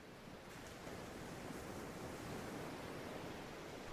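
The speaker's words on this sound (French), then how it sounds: "le bruit de l'océan enregistré derrière ma voix" Ocean waves recorded as a steady, soft wash of surf, a faint continuous broadband rush with no distinct breaks or voices.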